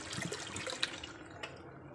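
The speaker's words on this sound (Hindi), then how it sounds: "अब हम इसमें शोरबे के लिए पानी डालेंगे" Water poured into a pot of chicken curry to make a thin broth, a soft continuous splashing and trickle close by with a few brief louder splashes, no voices.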